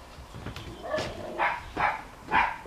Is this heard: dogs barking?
yes